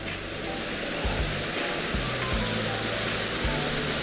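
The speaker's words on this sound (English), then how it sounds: "Nice man-made waterfall." Steady rushing water pours without a break, a constant broadband roar from a small man-made waterfall at Elsecar Heritage Centre, with a few low thumps mixed in.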